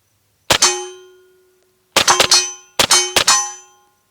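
Two to three sharp metallic clanging shots ring out from a suppressed 9mm pistol firing 115 grain rounds, each crack followed by a short ringing decay, a single shot first then two quick pairs, close and loud with no talking.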